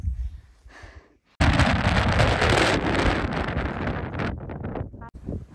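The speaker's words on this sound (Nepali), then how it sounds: "मान्छे उडाउने हावा आउँछ" Strong wind on a mountain trail on the way to Silichung Peak buffets the microphone in a loud roaring rush that bursts in after a quieter opening, then gusts and fades in uneven surges.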